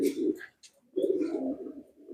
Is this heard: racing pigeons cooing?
yes